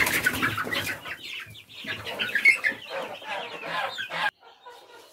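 Bantam hens on a small farm cluck steadily in a close, busy chorus, with soft overlapping calls and flutters that cut off abruptly near the end.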